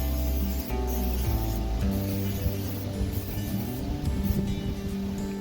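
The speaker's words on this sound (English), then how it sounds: "I'm just going to coat it with a little bit of oil." Oil is rubbed by hand over turkey legs for smoking and frying, a continuous soft slick rubbing and squishing with a steady low hum beneath, no voices.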